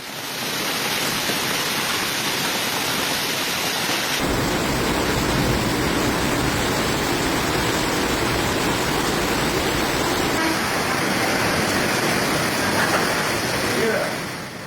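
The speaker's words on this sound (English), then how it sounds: "powerful thunderstorms, torrential rain, destructive hail, and fierce winds swept across the country." Torrential rain and hail pour down during a severe thunderstorm in Greece, a loud continuous dense roar of wind-driven downpour that shifts in intensity with no breaks.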